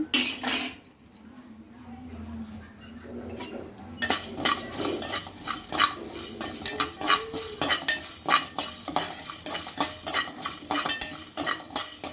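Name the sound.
bay leaf and coriander seeds dry-roasted without oil, stirred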